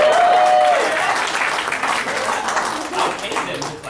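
Audience clapping at a comedy roast, strongest at first and then tapering off, with crowd murmur and a speaking voice running beneath it.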